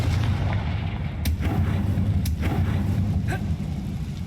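A Confringo fire spell blast from the Hogwarts Legacy video game, heard as several sharp booming bursts over a steady low rumbling game background, with no talk.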